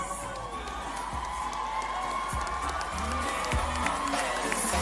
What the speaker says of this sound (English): A round of applause for contestant number 1